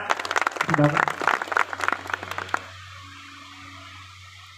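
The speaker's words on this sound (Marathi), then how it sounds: "एकदा जोरदार टाळ्या" An audience at a Marathi question-and-answer double-bari folk performance in Nerur Adarshnagar claps loudly for about two and a half seconds, then the applause stops abruptly, with a voice heard briefly among the claps.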